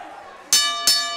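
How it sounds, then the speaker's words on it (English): Two sharp, ringing strikes of the starting bell at an XWA wrestling event, evenly spaced and loud, each with a bright metallic decay. "Waiting for the bell."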